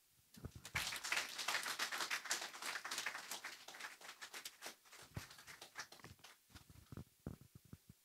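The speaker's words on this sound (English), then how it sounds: "A December applause, not a January." Book launch audience applauding, with scattered individual claps building into a steady patter, then thinning out into a few sparse claps near the end, heard at moderate distance in a hall.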